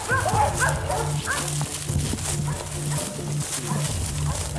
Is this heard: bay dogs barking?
yes